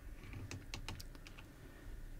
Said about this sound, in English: I'm going to press Ctrl-V on my keyboard.